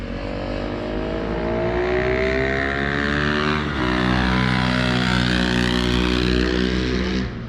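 A supermoto motorcycle at a mechanics track holds a loud, continuous engine drone close by, its pitch dipping and then swelling again as it rides past over several seconds.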